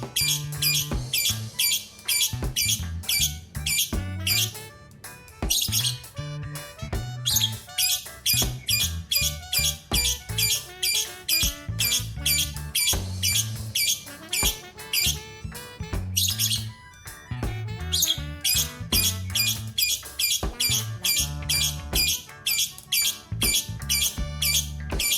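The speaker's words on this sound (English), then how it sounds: "P-A-R-R-O-T. Parrot." A parrot gives repeated sharp squawks and chirps in a rapid, continuous stream, loud and near, layered over a rhythmic background music track.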